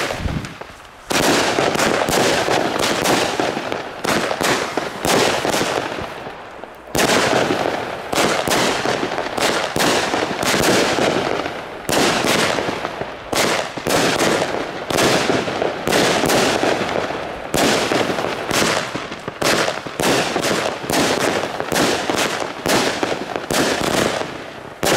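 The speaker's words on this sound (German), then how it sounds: "So, wir kommen jetzt zum Test der Street Fireworks Velo City 25 Schuss." A Street Fireworks Velo City 25-shot firework battery fires its shots one after another in loud, sharp bursts, a rapid run of cracks and booms that continues with few pauses.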